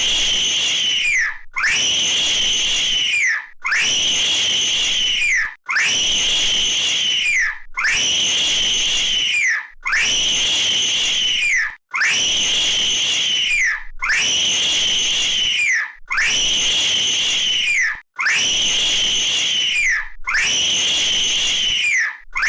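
A boy screams in a temper tantrum at a bookstore, voiced as the cartoon character Eric Cartman. About ten long, loud, shrill shrieks repeat in a steady rhythm, each separated by a brief gasp.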